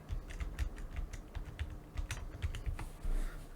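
Rapid clicking of keys on a computer keyboard as a search term is typed, a steady close run of light taps with short pauses, no voices.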